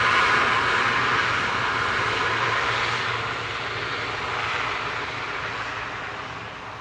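An ATR turboprop airliner departs Manchester Airport, its engines a loud, steady roar with a propeller drone that fades slightly toward the end, heard alone without talk.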